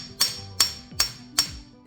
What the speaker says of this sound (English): it's basically a screwdriver that you can hit with a hammer